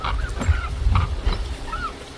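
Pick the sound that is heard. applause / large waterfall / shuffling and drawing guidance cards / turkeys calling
turkeys calling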